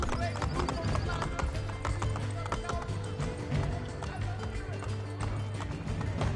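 Rapid rhythmic hoofbeats of a galloping horse in the video game Assassin's Creed Brotherhood clatter steadily at moderate volume, mixed with a looping low musical drone in the background.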